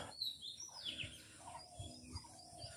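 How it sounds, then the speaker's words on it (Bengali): Small birds chirp and tweet in short, faint bursts by the Asranga Dighi lake in Joypurhat, distant and gentle against a quiet outdoor background. "পাখির আওয়াজ শুনতেছেন?"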